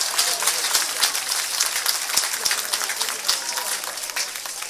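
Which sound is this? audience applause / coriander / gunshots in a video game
audience applause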